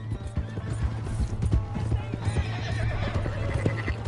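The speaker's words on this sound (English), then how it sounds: "Hey, that's my horse!" A horse in a video game gallops with quick, steady hoofbeats and lets out a neigh, heard fairly close against a quiet in-game background.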